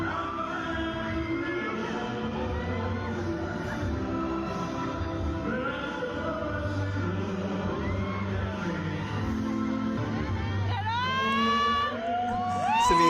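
A concert crowd at the show cheers and shouts in a continuous loud roar, with high-pitched screams rising toward the end.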